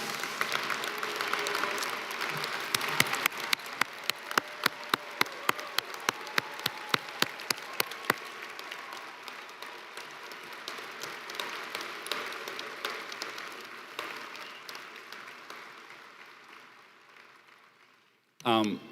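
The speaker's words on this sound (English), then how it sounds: "all of us should applaud these graduates who came here today" An audience at a graduation ceremony in Manchester applauds the graduates. Scattered clapping swells into a sharp unison rhythmic clap for several seconds, then loosens into a long, gradually fading round of applause.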